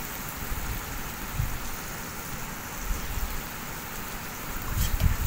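Spice paste frying in a pan with salt and turmeric, a continuous soft crackling sizzle with faint low thumps of stirring.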